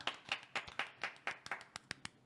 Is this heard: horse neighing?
no